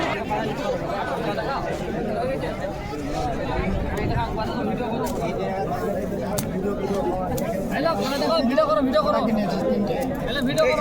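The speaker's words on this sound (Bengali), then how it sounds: "তাহা তাদের কাছে ভালো ভিড় আছে, দেখতে পাচ্ছ।" Dense crowd chatter at Beldanga pigeon market in India, a constant close babble of many overlapping voices with people talking throughout, holding steady at a loud level.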